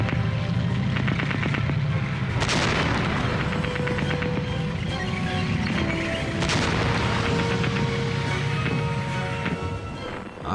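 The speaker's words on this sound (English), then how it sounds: "At last, they got within effective range and opened fire again." Tank guns firing in a First World War battle, with heavy booms and bursts of gunfire over a constant loud rumble, several distinct blasts spread across the stretch.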